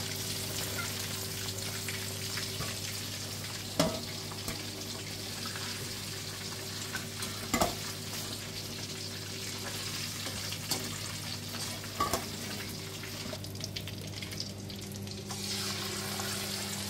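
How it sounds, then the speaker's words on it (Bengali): Large pieces of meat for biryani frying in hot oil, a steady dense sizzle running without pause, close up, with occasional clinks of a utensil against the pan and no speech. "এইভাবে আমি সব মাংসগুলো ভেজে নিয়ে"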